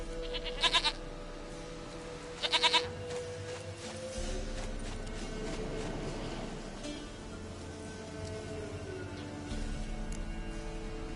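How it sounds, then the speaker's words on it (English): Goat bleats in The Witcher 3 video game, two loud bursts of bleating early on over a steady low game ambience, followed by softer rustling and background sound. "Goat of mine, dearest,"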